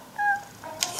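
Cat meowing and purring in the adventure video game Deponia: a short, clear meow with a soft rumble beneath, heard alone at close range without talk.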